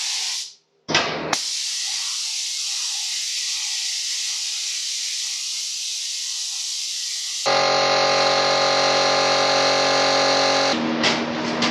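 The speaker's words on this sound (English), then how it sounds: "Spray gun's doing all right." A hissing spray gun blasts paint onto metal motorcycle parts continuously for several seconds, then the tone shifts to a harsher, buzzing spray with a mechanical whine underneath.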